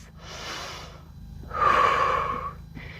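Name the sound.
deep breathing during yoga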